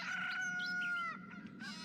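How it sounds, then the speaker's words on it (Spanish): A rooster crows at dawn in the Cochabamba countryside, one long drawn-out cock-a-doodle-doo with a rising and falling tail, heard fairly near over a quiet rural background. "el canto del gallo,"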